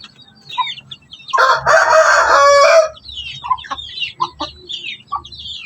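A hen with her chicks clucking and calling nearby, with a louder burst of hen cackling in the middle and softer scattered clucks and peeps around it.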